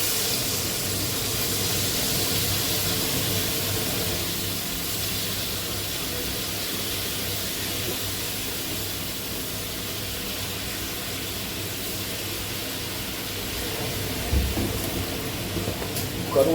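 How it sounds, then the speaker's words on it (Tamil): Dried fish frying in hot oil in a home kitchen: a steady, even sizzling hiss runs close and constant for the whole stretch, with a small spatter near the end and no talking. "கருவாடு பொரியுது."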